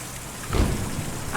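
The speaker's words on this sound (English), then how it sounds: "Conway likes to walk in the rain" Steady rain in the video game Kentucky Route Zero, a soft continuous patter with a brief low rumble near the middle and no talking.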